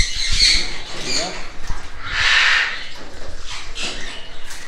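A parrot at a pet shop in Kannur gives loud, harsh squawks in a few bursts close by, with people talking faintly around it.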